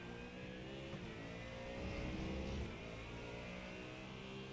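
A GT3 race car engine in the iRacing sim game roars steadily at high revs, swelling briefly louder as it accelerates, with a rich buzzing growl and no voices.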